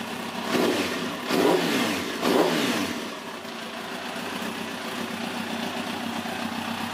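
A 2005 Kawasaki ZX10 motorcycle, just started, revs up close by in three quick throttle blips, then settles into a steady, even idle.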